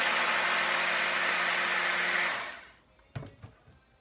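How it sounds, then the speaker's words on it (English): Blender whirring loudly and steadily as it mixes a Herbalife shake with ice cubes, then spinning down and stopping, followed by a couple of faint knocks. "We put ice cubes in the blender"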